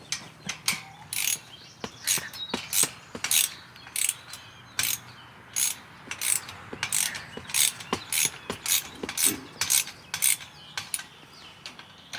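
A ratchet tightening a garden wagon during assembly, giving a rapid series of sharp metallic clicks in short bursts, close and distinct against a quiet background.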